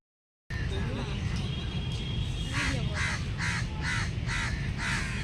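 Crows caw in Kolkata, near Victoria Palace. Scattered calls give way to a run of about six loud, evenly spaced caws over steady outdoor background noise.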